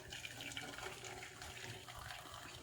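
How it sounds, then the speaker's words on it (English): Hot chocolate tea being strained from one pot into another, a steady pouring and trickling of liquid that runs close and continuous throughout. "So I'm straining it off into a different bowl, different pot."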